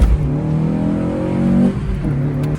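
A car engine revs hard from cold, climbing in pitch and easing off, loud and close from inside the car, with a slight drop and second pull near the end.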